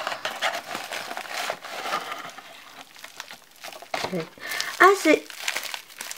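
Plastic packaging around a Tales of blind-box figure crinkles and rustles close up while a person talks over it, with a louder burst of crumpling near the end.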